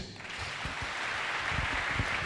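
A church congregation claps together after a call to acclaim Jesus, a steady, dense patter of hands filling the room from start to finish without any voices.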